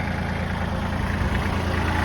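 A tractor engine idles close by with a steady, dense low chugging drone that holds constant and alone throughout.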